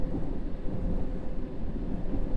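Rain and thunder in the World of Subways train simulator, on the London Underground just outside a tunnel: a dense, steady hiss of rainfall under a continuous low rumble of thunder, with no talking.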